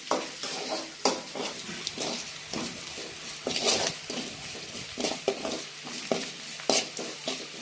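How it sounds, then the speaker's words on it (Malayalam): Onions fry in a pan for a fish curry, a soft sizzle broken by repeated rhythmic stirring scrapes and occasional utensil knocks against the pan, close and fairly quiet, with no talking. "ഉള്ളി ഏകദേശം ആയിക്കൊണ്ടിരിക്കുന്നുണ്ട്"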